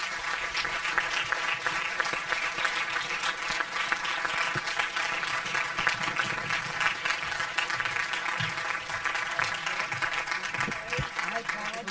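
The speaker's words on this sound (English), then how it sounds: "A warm round of applause for him, please." Sustained studio audience applause welcoming a guest on a television interview show, dense steady clapping filling the room throughout at a consistent, loud level.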